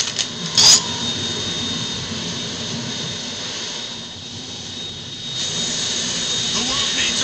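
A Harrier jet engine in the video game Metal Gear Solid 2 gives a loud, steady, droning roar across the whole clip, with a brief sharp burst near the start.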